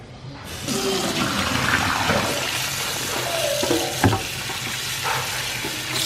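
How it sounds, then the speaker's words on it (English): Beef shank being rinsed under running water, a steady close rush of tap water splashing over the meat with a few knocks and clatters, and no talking. "So what we do now is we will take it out and rinse it."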